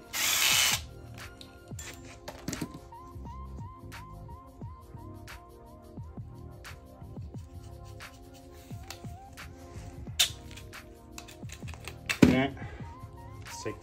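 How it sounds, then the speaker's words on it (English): A power drill whirs in short repeated bursts up close, mixed with clicks and clatter of handling tools, with a loud burst near the end. "get a drill."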